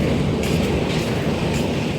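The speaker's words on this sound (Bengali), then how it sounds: "আর পাশ থেকে বের হয়ে যাচ্ছে আরেকটা ট্রেন" A passenger train pulls out alongside at Howrah station, a loud steady rumble of wheels and carriages close by with a faint metallic rattle.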